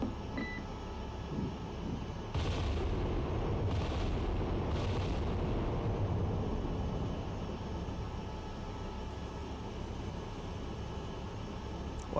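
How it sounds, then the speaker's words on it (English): A warship's guns open fire in the naval game Cold Waters, with a few heavy booming reports under a steady loud rumble of ship noise, the shots coming close together near the start. "Bridge, battery, guns engaging"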